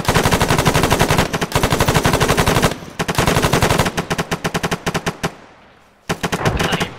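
Rapid automatic gunfire from the video game Arma 3, loud and close, fired in repeated fast bursts with a short pause before a final burst.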